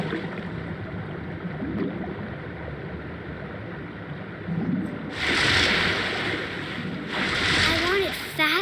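Ocean waves and splashing after a fall from a cliff in What Remains of Edith Finch, a low rolling surf with two louder washing surges late on, under a narrating voice.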